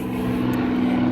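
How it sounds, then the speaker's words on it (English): A helicopter passes overhead during an outdoor walk, its steady low rotor drone loud and continuous throughout the short stretch, with no talking over it. "Helicopter."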